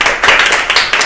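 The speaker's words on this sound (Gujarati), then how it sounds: "બધા પોતાના માટે તાળીઓ પાડો" Schoolchildren in a classroom clapping together, a loud close burst of quick uneven hand claps filling the whole second.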